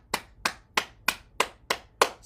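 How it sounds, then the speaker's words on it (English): Seven crisp hand claps fall in an even, steady rhythm, close and distinct, each one decaying quickly into quiet. They come during a morning bouncing exercise session. "Let's clap our hands."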